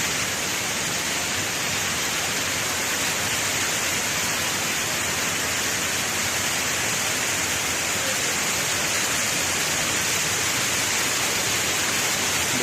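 Kuang Si waterfall near Luang Prabang, Laos, roaring as a loud, steady, unbroken rush of falling water heard from close by.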